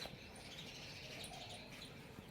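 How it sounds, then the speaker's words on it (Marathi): Faint, high chirping of sparrows in the distance, repeated tweets over a quiet background hiss. "चिमण्या चिव चिव चिव चिव चिव चिव कसे करते"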